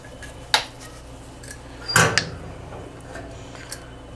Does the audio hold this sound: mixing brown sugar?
yes